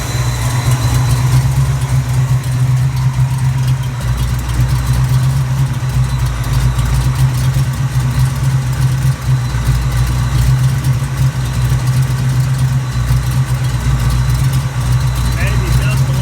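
A Ford Cleveland V8 with homemade headers and exhaust idles steadily and loud throughout, a constant low rumble with no break.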